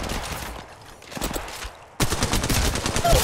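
Rapid automatic gunfire in Apex Legends Mobile, a lighter burst of shots followed by a loud, sustained stream of close rounds that runs to the end.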